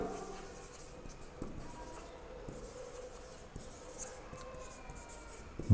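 Marker writing on a board scratches and squeaks softly in a steady run of short strokes, close and faint, with no voices.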